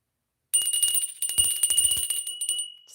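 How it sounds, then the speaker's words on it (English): A small hand bell rung briefly, bright sustained ringing tones with a few jingling strikes, close and alone after a moment of silence. "I'm going to ring the bell, so fair warning."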